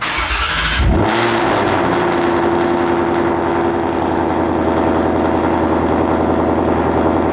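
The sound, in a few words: Ford Mustang Mach 1 cold start with long tube headers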